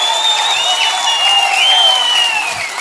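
A crowd at a political rally applauds steadily, a dense, continuous wash of clapping that stays loud and even for about three seconds.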